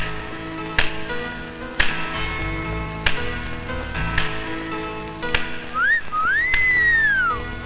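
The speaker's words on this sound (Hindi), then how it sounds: "कितनी सुरीली सीटी थी।" A person whistles a melodious tune, the notes sliding up and down near the end, over a background of repeated tapping like dripping water, with no talking.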